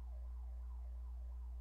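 Wailing siren sounding outside, a steady rising and falling sweep repeating every half second or so, faint and distant over a low constant hum, with no talk.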